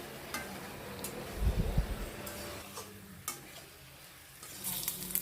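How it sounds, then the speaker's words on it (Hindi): Soft sizzling of vegetables frying with spices in a pan, with occasional stirring scrapes and light clinks, no voices. "मसाले अच्छी तरह से भूनने के बाद मैं यहाँ पर सब्जियों को डाल दी"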